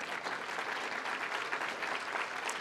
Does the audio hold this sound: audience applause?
yes